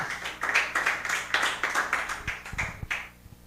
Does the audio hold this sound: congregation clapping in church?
yes